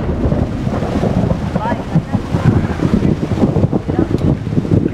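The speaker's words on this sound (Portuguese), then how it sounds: "tá muito alto os trovão" Storm in a GTA MTA roleplay game, with continuous rumbling thunder and buffeting wind filling the whole stretch, loud and dense, a voice faintly audible beneath.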